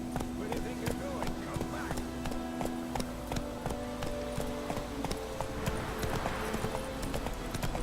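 In The Witcher 3, a horse gallops with quick, regular clip-clop hoofbeats, a steady rhythmic patter under in-game music and voices.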